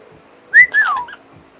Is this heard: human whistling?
yes